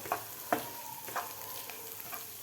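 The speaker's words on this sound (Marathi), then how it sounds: "कांदासुद्धा आपल्याला थोडासा फ्राय करून घ्यायचा आहे" Onion frying in a pan, a soft continuous sizzle with several distinct scraping strokes as it is stirred, close by and moderately quiet.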